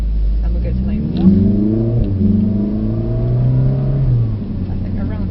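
A Mercedes-AMG car accelerating on an ice driving track, its engine note rising steadily through the gears from inside the cabin, loud and close, with people talking over it.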